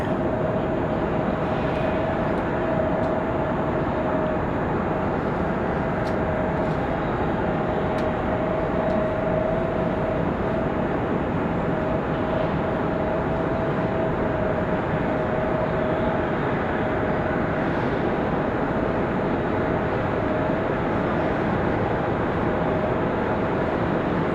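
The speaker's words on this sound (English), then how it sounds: "enjoy the Dreamliner departure" A Boeing 787 Dreamliner departs Raleigh-Durham International Airport, its loud continuous jet roar filling the whole stretch without a break.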